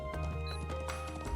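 Horse hooves clip-clopping in the Trails of Cold Steel 3 video game, a steady rhythmic trot over background game music.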